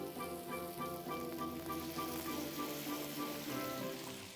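Asparagus simmers and sizzles steadily in a pan with a splash of white wine, a soft continuous crackle and bubbling with no voices.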